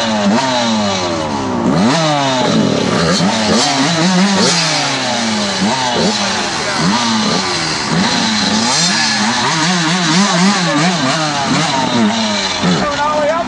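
A dirt bike engine in first gear revving and bogging repeatedly, a loud rasping drone rising and falling in uneven surges throughout, with people talking over it outdoors.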